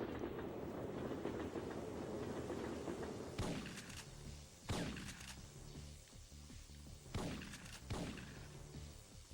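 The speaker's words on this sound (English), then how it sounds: "And trains." A train rumbles past in the Syphon Filter video game, a steady roar broken by several sharp rhythmic clacks of wheels over rail joints.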